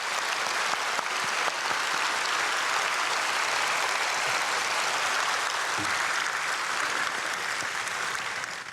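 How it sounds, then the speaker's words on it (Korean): A church congregation at an early morning service applauding to welcome a guest, sustained dense clapping from many hands, even and steady for several seconds with no voices over it. "우리 박수로 환영해 주시면 감사하겠습니다."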